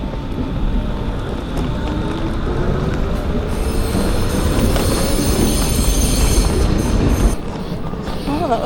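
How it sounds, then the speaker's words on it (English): A Hamburg S-Bahn train rolls along the platform with a loud, continuous rumble, rattling wheels and squealing rail noise throughout, plus a brief quieter dip near the end. "That was my first S-train or underground experience"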